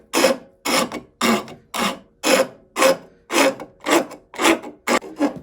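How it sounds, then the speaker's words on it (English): A wood rasp glides lightly across a wooden surface in ten even, rhythmic strokes, each a short dry rasping scrape followed by a brief pause, close and clear with no talking. "If you use a light touch and let the rasp just slide across the surface"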